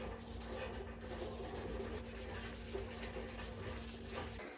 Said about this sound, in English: I'll use a sanding pad like this